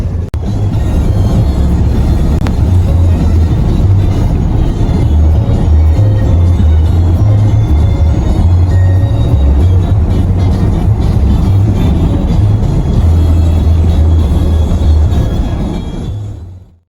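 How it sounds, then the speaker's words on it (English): A truck drives on a snowy road, breaking trail through fresh snow: a loud, close, steady low engine and road rumble that holds throughout and cuts off at the end, with no talking. "I'm one of the few trucks out here breaking trail on the road there"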